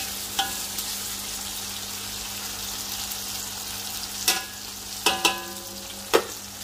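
Frozen pre-cooked fish tofu frying in a pan for ginisang mungo, a steady low sizzle with a few sharp clacks of stirring scattered near the end, no talking.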